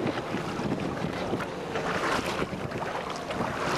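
Wind rushes steadily across the microphone aboard a Firebug sailing dinghy out on the water, a loud continuous roar with the splash of waves and hull noise mixed in, no voices.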